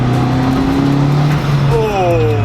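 A Honda Civic EG engine revs on a dyno in a third gear pull, a loud sustained drone whose pitch climbs steadily, then drops and climbs again near the end.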